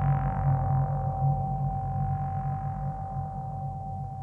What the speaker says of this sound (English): you've got that sort of slightly ugly, insistent, constant sine wave note at the top